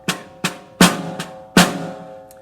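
A snare drum is struck five times up close, with some hits noticeably harder and accented, each crack ringing briefly before the next, with no other sound around it.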